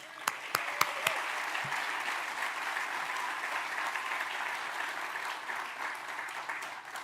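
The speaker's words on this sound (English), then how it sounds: "Let's give them a warm applause." Warm audience applause at a memorial ceremony honoring a veteran, sustained clapping from a sizable crowd that opens with a few sharp claps and then holds steady for several seconds.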